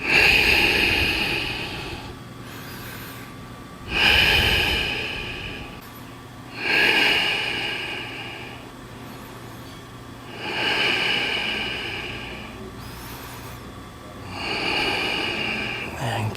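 Slow, deep breathing during a yoga arm-balance flow, with five broad inhale-exhale swells spaced a few seconds apart, fairly close and steady, with no talking.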